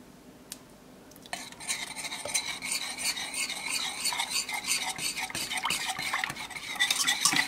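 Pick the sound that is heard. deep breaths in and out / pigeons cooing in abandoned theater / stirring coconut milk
stirring coconut milk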